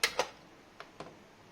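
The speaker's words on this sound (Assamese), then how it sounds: "এতিয়া দৈৰ পকৰীখিনি ভাজিবৰ কাৰণে প্ৰথমে মই গেছটো অন কৰি ল'ম" A gas stove being switched on gives a few faint, sharp clicks: two quick ones, a pause, then two more, quiet and close.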